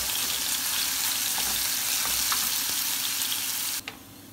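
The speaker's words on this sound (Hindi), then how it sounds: "घी गरम हो गया, हम इसमें ये डाल देंगे साबुत मसाला हमारा, ये होने के बाद मैं इसमें डाल दूंगी प्याज और ये" Whole spices sizzle and fry in hot ghee in a pan with a steady, bright crackle that runs continuously, close and fairly loud, until a clatter near the end as onions go in.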